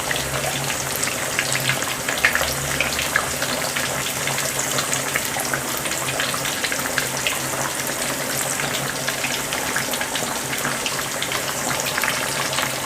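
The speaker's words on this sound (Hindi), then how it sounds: "और इसे फ्राई करते हैं और इसे दरमियानी आंच पर फ्राई करना है।" Fish sizzles steadily in hot oil over a medium flame, a continuous broadband crackle with no speech.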